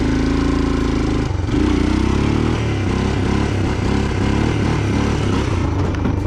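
A 1987 Honda TRX 250 ATV engine revs hard and steadily through a wheelie, its loud, close buzzing drone rising in pitch after a brief dip and then holding with rough, pulsing throttle changes.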